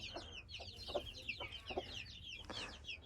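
Faint, rapid high peeping of chicken chicks mixed with a few soft clucks from a hen, continuous chatter close by.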